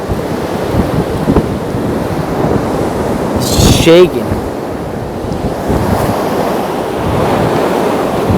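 Strong 60–70 mph wind roars through trees and buffets the microphone in a continuous heavy rush with gusty swells, while a person briefly speaks over it.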